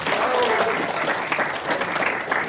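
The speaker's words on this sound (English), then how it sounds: "Please give a big round of applause for yourself and for being present here today." Audience applause fills an ethnic night cultural show, dense steady clapping throughout with a light crowd murmur underneath.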